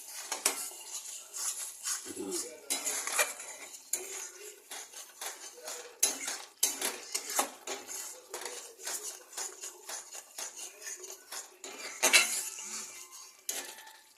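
Navratan korma stirred in a pot after adding ground nutmeg, mace, garam masala and cardamom: a quiet run of irregular metal spoon clinks and scrapes against the pot, close and intermittent.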